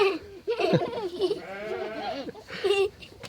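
Several lambs bleat in quick succession, close and fairly loud, their wavering cries overlapping with a voice.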